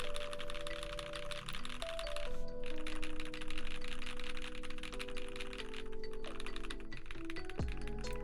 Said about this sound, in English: Holy Pandas will sound the same on any keyboard you use it on